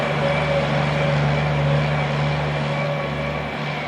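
A 1950s-era vintage bus with a Scottish Aviation body, in a fictitious livery and giving rides at a bus festival, idles with a steady low diesel drone and hum, close and continuous throughout.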